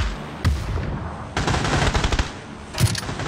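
Gunfire in a video game: loud close bursts of rapid shots, a short burst, then a longer volley and another burst near the end, with no talking.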